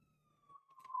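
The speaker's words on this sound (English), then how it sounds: "My apologies if you guys are hearing that siren." A fire engine siren wails faintly in the distance, its steady tone swelling louder toward the end with some muffled background noise.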